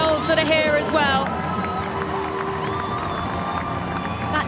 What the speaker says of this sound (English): Crowd getting so excited